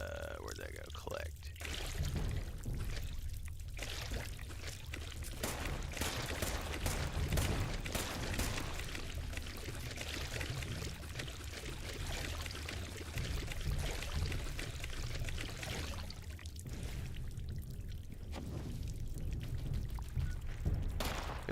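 Dirty water being collected in Fallout 76 pours and gurgles as a steady, continuous wash of splashing that stays close and fairly loud throughout, with no voices.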